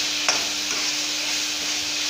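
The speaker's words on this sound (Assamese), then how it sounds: "এয়া মই বিলাহীখিনি এড কৰি দিলোঁ, চাওক এনেকৈ ভাজি ল'ব" Tomatoes frying in a pan for an okra curry give a steady broad sizzle, with one brief clack near the start and soft stirring scrapes, no voices.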